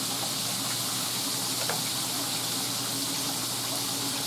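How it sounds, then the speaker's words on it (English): Chicken fried steak with a double-dipped crust sizzles in a pan, a steady close hiss of frying oil that stays even throughout with no talking. "Sizzle, sizzle, sizzle."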